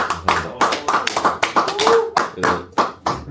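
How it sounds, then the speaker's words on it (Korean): Audience applause greets a Catholic priest about to present his master's thesis summary, a rhythmic run of separate claps close by, some uneven, lasting a few seconds. "박수로 환영하겠습니다."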